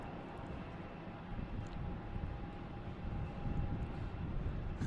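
Korean Air airliner lining up on a runway at Boston Logan Airport, a steady distant engine rumble with a faint whine, blending with light wind noise and gradually swelling slightly.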